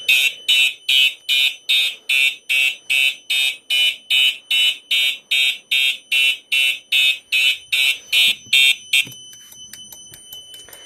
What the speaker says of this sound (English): I have a real fire alarm running off of the Snap Circuits fire alarm panel.